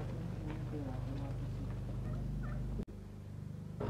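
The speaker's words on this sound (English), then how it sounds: "The last time I came here, there are a lot of turkeys." Turkeys gobble in bursts over a steady low rumble, with a brief sudden dropout near the end.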